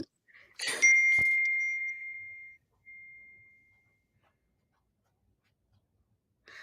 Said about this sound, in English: my husband texted me